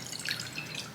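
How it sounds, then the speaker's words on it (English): Water splashes and trickles steadily into a pot holding sugar, a brief, close, continuous hiss of liquid with no voices. "So while I combine the water and sugar into this pot,"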